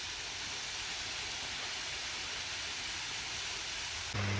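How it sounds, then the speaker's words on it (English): A waterfall in a Vancouver Island park pours a constant hiss of falling water, even and moderately faint throughout, with a low thump at the very end. "this is the highlight of the park, this beautiful waterfall."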